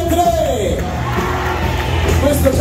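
A crowd of spectators shouts together on cue at an amusement park show, a loud, sustained mass of voices with whoops and cheering, close and dense, with an announcer's voice mixed in.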